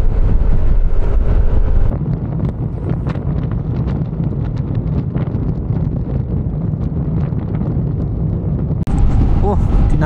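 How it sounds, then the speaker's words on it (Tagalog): Strong wind roars steadily into the microphone on a mountain road in La Paz, Cordillera, a deep, unbroken rumble with brief gusts, while a person speaks under it. "Oh, tinatangay tayo ng hangin."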